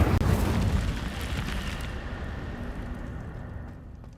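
A fire spell bursts out in the Hogwarts Legacy game, opening with a loud whooshing blast that settles into a sustained roaring crackle of flame, fading gradually over several seconds with no talk.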